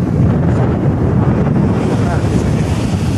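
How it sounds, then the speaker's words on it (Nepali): Strong wind buffets the microphone in a loud, continuous low roar, rumbling steadily throughout, on the Black Sea coast at Constanta, Romania. "हावा चलेछ एकदम"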